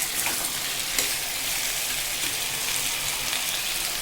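Potatoes frying in hot oil with dried red chillies and cumin, a dense continuous sizzle with occasional stirring, close and steady throughout.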